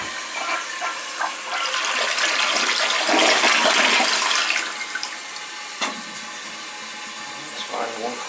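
A toilet flushes with a loud, close rushing gush of water that swells for several seconds and then eases into a lighter trickle and refill sound, with a few clunks near the end.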